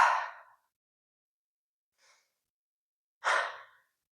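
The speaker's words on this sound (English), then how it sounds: "I'm going to take a few deep breaths" A seated person behind the wheel takes slow, deep breaths, two loud close exhales separated by a faint short breath, with silence between them.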